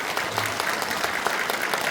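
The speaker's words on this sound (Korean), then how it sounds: "여러분 큰 박수 부탁드립니다" Book concert audience at a civic hall in Yeongju giving a warm round of applause, dense continuous clapping throughout, fairly distant and even, with no voices on top.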